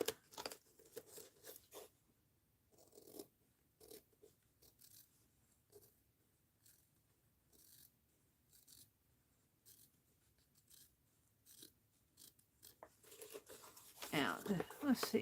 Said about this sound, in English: I can get a hold of my scissors.